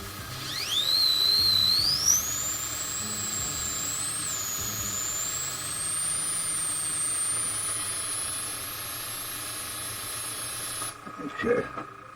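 A Paasche AB Turbo airbrush turbine spinning up, a thin whistling whine that rises steadily in pitch and holds high for several seconds before cutting off, close and fairly loud, with brief handling noise at the end.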